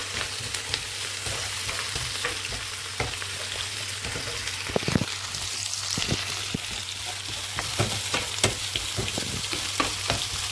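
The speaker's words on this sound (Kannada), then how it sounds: "ಆನಿಯನ್, ಗ್ರೀನ್ ಚಿಲ್ಲಿ, ಕರಿಬೇವು ಇದೆಲ್ಲ ಹಾಕಿ ಫ್ರೈ ಮಾಡ್ಕೋಬೇಕು" Onion, green chilli and curry leaves frying in hot oil in a pan after cumin has crackled, a steady loud sizzle with frequent pops and stirring scrapes, close up and with no voices.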